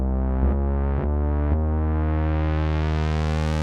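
A sustained, buzzy Juno 6 analog synth bass preset with a slowed attack, a few note retriggers near the start, then a long held note that slowly brightens.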